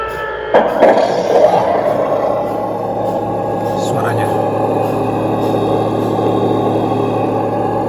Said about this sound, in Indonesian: Suaranya sudah seperti tank bener ya